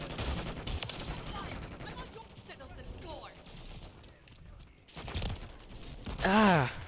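Shotgun blasts in a Call of Duty match, several sharp, loud bursts spaced apart, with a brief vocal sigh near the end.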